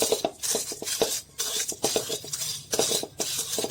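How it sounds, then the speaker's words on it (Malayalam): A piece of coconut shell is crushed on a stone grinding slab, giving rhythmic, crunchy knocks and scrapes repeated in quick bursts, near and moderately loud. "ഒരു ചിരട്ടയുടെ ഒരു മുറി എടുത്ത് നമുക്കൊന്ന് ചതച്ചെടുക്കാം അമ്മിക്കല്ലേ വെച്ച് ചതച്ച്"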